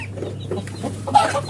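A pair of mottled Cochin chickens, one male and one female, give a few soft, close clucks in a brief moment.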